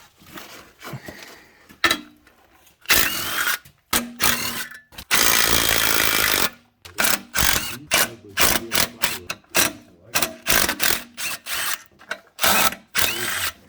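Bursts of a power tool zipping out clutch pressure plate bolts during a clutch swap on a car, short repeated whirring runs with ratcheting pauses between them, close and fairly loud.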